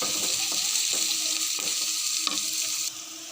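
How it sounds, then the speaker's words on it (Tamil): Finely chopped onion fries in oil with fennel seeds, a loud, close, continuous crackling sizzle broken by a few stirring scrapes, easing slightly in the last half-second, with no voices. "வெங்காயம் நல்லா வதங்கிடுச்சு"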